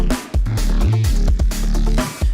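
A growly synth bass built in Studio One with multiband compression and distortion, loud, gritty and close, with pitch-gliding low notes and sharp rhythmic stabs over a couple of seconds.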